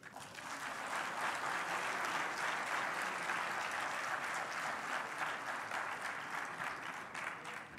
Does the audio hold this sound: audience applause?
yes